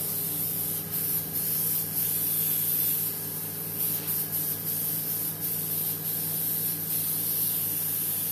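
Steady fine hiss of a vitamin C facial mist sprayed continuously during a facial treatment, close and unbroken with small pulses, no talking.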